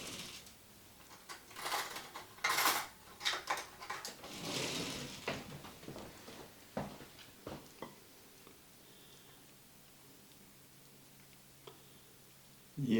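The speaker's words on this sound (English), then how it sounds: "Let me get me a spoon right quick" A spoon is fetched and handled in a home kitchen beside a crockpot of turnip green soup: a burst of rattling, clinking and drawer-like clatter up close, followed by scattered light ticks and taps, then near quiet.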